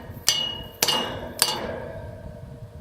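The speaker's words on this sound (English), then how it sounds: "Then you will hammer it down." Three sharp metallic hammer strikes ring out at an even pace, driving a wedge anchor into concrete, each followed by a brief ringing decay.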